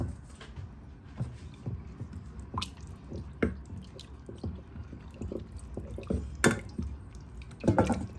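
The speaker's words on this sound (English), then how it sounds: "just add this water to it and mix everything together" Water poured into starch and stirred to make Nigerian starch gives wet, squishy dripping and sloshing sounds in irregular bursts, close and moderately loud.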